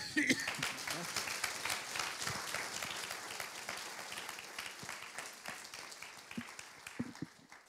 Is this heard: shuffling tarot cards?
no